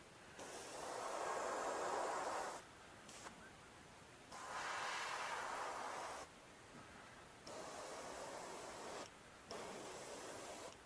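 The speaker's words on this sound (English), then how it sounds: "The airbrush I'm using is the Pache Talon. It's a airbrush with a top located cup." Paasche Talon top-cup airbrush spraying paint while repairing velvet antlers, a soft close hiss in several bursts of one to three seconds separated by short pauses.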